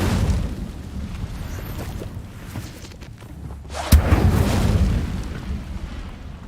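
An Incendio fire spell is cast in Hogwarts Legacy, a sudden whooshing burst of flame that flares over a low rumbling game background and then roars on steadily.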